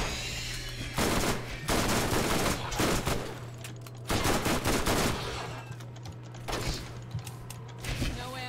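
Bursts of SMG fire in Borderlands, loud rapid volleys repeating every second or two over a steady low hum, with brief pauses between strings of shots.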